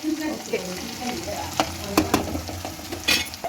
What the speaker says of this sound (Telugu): ఇవన్నీ బాగా వేయించుకోవాలా